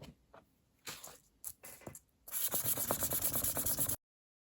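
Fine 600-grit sandpaper rubbed against a beater head, a few soft isolated scrapes at first, then a dense run of quick, steady back-and-forth sanding strokes, close and fairly loud, ending abruptly.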